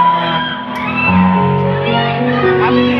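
A crowd of voices at a street concert shouts and cheers together, loud and sustained, with excited whoops rising over the noisy mass of sound.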